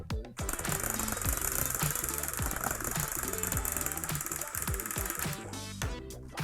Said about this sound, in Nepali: फ्यान चाहिँ घुम्यो तर यहाँ ठोकिरहेको छ